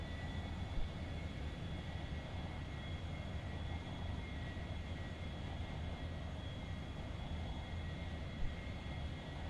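An aircraft engine drones steadily with the throttle reduced, a constant broadband rumble heard from inside the plane with no clear change over the stretch.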